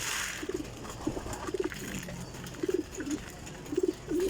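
Pigeons cooing in short repeated bursts, soft and fairly close, spaced about a second apart against a quiet background.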